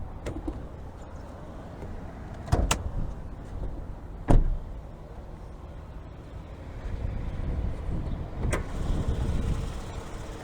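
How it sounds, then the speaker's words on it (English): Hood of a 2022 Toyota Highlander XLE AWD with a 3.5 liter V6 being released and raised: a few sharp, separate clicks and thunks over a quiet outdoor hiss, with no talking. "I'm just gonna pop this hood"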